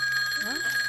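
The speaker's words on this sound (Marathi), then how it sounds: "फोनची बेल वाजल्यावर तुम्ही एवढे घाबरलात का?" An old-style telephone bell rings steadily and fairly loud indoors, with a voice briefly sliding underneath partway through, in a tense Marathi suspense drama scene.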